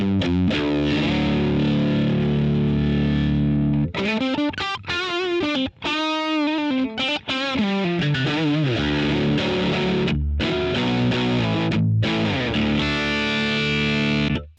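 Electric guitar played through a Halcyon overdrive pedal on a pedalboard, loud and saturated, with sustained distorted chords followed by a run of quick articulated notes and phrases, no voices.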